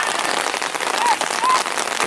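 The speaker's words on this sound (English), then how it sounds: "As the rain now perhaps shows signs of letting up." Rain falls steadily at a Hadley FC versus Bedford Town football match, a dense, even hiss across the whole stretch with faint voices underneath.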